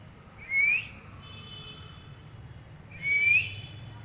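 A talking parrot gives two short rising whistles, a few seconds apart, over a low steady background hum.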